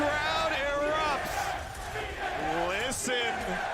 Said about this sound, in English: Listen to New York cheer.